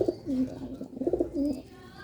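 Breeder pigeons cooing close by, a soft low throaty coo repeated in two or three rolling phrases over quiet background.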